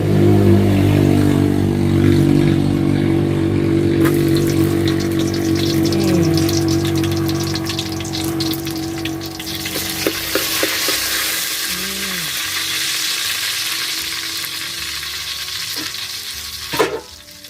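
Garlic juice poured into hot oil, giving a loud steady sizzle and bubbling hiss over a low pumping rumble, with a few clinks from a utensil toward the end.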